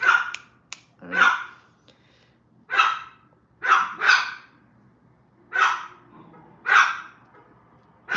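A dog barks repeatedly indoors, about seven loud, close single and double barks spaced by short pauses of silence.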